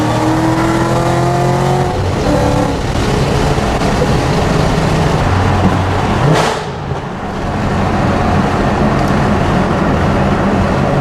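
A Ford GT500 fitted with a Borla ATAK exhaust and long tube headers drives steadily, its engine droning loudly and close. It shifts partway through, with a brief rising rev around the middle.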